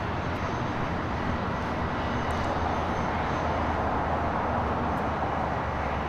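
An Allegiant airliner sits on the runway at LAX, its engines giving a steady, broadband roar from a distance that holds level throughout with no clear rise or fall.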